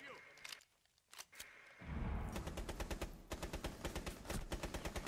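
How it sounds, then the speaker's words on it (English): Rapid bursts of automatic gunfire from a shooter video game, loud and close, repeating in quick rhythmic volleys after a short quiet stretch, with occasional single shots at the start. "Hold on, hold on, I'm shooting him!"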